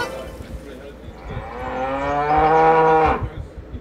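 A cow gives one long, loud, drawn-out moo that rises and swells before breaking off, with a little low rumble before it.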